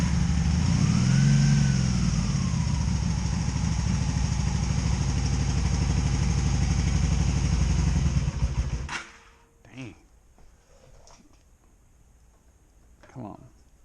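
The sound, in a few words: Honda Magna VF750C motorcycle engine firing up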